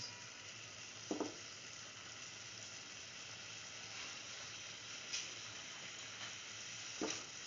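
A mint and coconut mixture sizzles steadily as it fries in a pan for a scrambled egg coconut stew, with a few soft scrapes of stirring breaking through the constant crackle.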